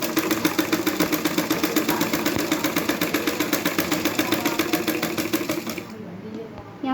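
A sewing machine runs steadily, stitching gotta patti trim onto a plazo with a fast, even mechanical rattle, close and loud, before stopping near the end.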